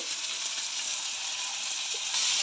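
Onion and garlic paste frying in oil for a brinjal and egg dish, a steady close hiss of sizzling that holds level throughout and swells slightly louder near the end.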